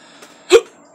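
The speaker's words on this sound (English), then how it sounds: "And I still got the hiccups from the last one." A single loud hiccup from a man who has just swallowed a spoonful of thick Dave's Gourmet Insanity Hot Sauce, a sharp gulping burst standing alone after a faint earlier catch.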